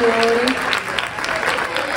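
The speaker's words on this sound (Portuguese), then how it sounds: "Palmas para ele, por favor." Applause from a Christmas party audience, a steady patter of clapping hands throughout with a voice talking over it.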